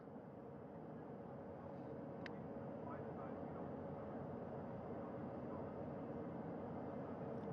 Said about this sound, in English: That helicopter will now hover just a distance away to give room for the first helicopter to come back